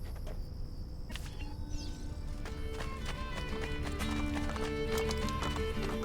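Horse galloping in Assassin's Creed Brotherhood, a steady rhythmic clip-clop of hooves running close and loud over continuous game ambience with faint insect chirps, plus a brief whinny early on.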